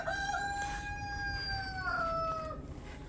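A rooster crows once, loud and drawn out over about three seconds, near a flock of chickens in a garden with a food forest, no talk.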